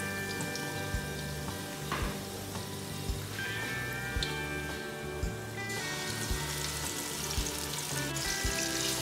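Marinated chicken pieces fry in sunflower oil for a Malabar pirichor dish, a steady close crackling sizzle with sharp spits and pops running throughout, no voices.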